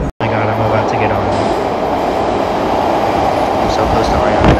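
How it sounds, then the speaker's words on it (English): A train pulls into a station, its steady broadband rumble loud and continuous close by, with a low hum early on and faint rattles. "Guys, oh my God, the train's coming."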